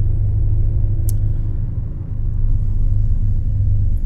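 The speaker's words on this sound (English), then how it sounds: "This truck is so loud." Loud, steady low engine rumble of a Scania S730 truck in the Euro Truck Simulator 2 game, droning continuously with a brief sharp click about a second in.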